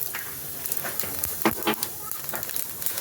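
Nigella seeds hit hot oil in a pan on a gas stove, giving a close, steady sizzle broken by scattered sharp pops and crackles over about three seconds.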